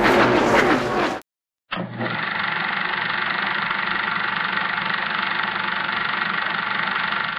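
A 2004 Mazda RX-8 rotary engine idles with a steady, close, buzzing hum and a faint knock-like flutter. It follows a brief burst of other noise and a short silence, then holds at an even level to the end.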